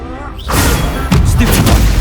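Confringo blasting spell detonating in Hogwarts Legacy: after a brief voice, a deep booming impact lands and a second heavier blast follows a moment later, loud and close.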